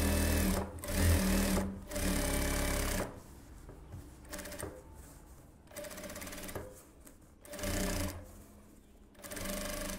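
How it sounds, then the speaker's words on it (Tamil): A sewing machine stitches along the edge of a silk blouse lining, its rapid mechanical whirring running in several bursts separated by short pauses, close and clear. "லைனிங் எடுத்து விட்டுட்டு ஒரு ஓரத்தில் தையல் போட்டுருவோம்"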